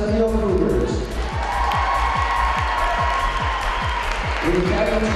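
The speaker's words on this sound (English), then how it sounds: "Now let's hear a round of applause for the tournament champions" Crowd applause and cheering swell across the stretch at a high school girls basketball championship trophy ceremony, mixed with loud rhythmic pulsing music and shouting voices over a PA.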